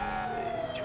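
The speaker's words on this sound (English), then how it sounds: "I'm gonna just activate 2 sirens" A police car siren wails steadily in a video game, a sustained tone held for under a second with no talk.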